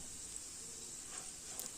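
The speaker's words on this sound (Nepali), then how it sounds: "अब एकछिन भुट्नुपर्छ मसलालाई।" Ground spices (cumin-coriander powder, Kashmiri chili powder, turmeric) fry in oil over low gas heat for a tomato pickle, giving a soft, steady sizzle throughout.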